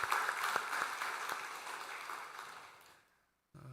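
Congregation applause at a Thanksgiving Sunday church service, dense clapping that tapers off and stops abruptly, followed by a brief sound as it ends.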